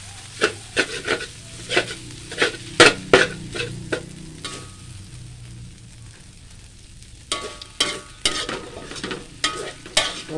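Tofu and egg with holy basil are stir-fried in a pan, giving repeated sharp scrapes and clacks of a utensil against the pan over a soft sizzle. The strokes come in uneven bursts with a short lull in the middle, and no one speaks.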